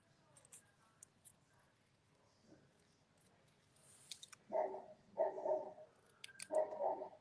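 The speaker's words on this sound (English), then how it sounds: "so he has quite a booming bark" A large bull mastiff barks several times in a quiet room, deep and muffled as if from next door, in a few irregular bursts.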